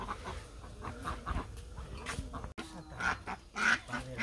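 Ducks being carried to a Friday village market quack and honk in short, irregular bursts at moderate distance, with rustling and outdoor background noise.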